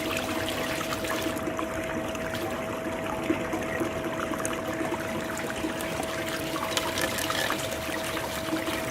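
Water pours and rushes steadily through muddy, clay-laden gold tailings in a sluice setup, a continuous close trickling and gushing flow with a faint steady hum underneath and no talking.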